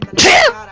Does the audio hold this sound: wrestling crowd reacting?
no